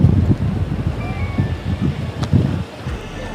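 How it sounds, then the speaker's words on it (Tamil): Strong wind blowing across a home's rooftop terrace, a loud rumbling buffeting against the microphone in gusts, with a faint voice speaking in the background. "ஆனால் பயங்கரமான காற்றுங்க. காற்றுக்கு வந்து பஞ்சமே கிடையாது."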